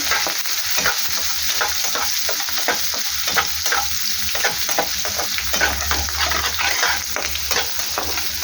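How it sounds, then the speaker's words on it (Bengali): Onions and two green chillies sizzle steadily in hot oil, with scraping and stirring sounds coming close and continuous, and no talking. "পেঁয়াজটাকে ভালো করে ভাজা করব।"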